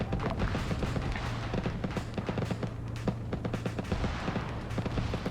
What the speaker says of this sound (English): we have lots of ears on gunfire to our south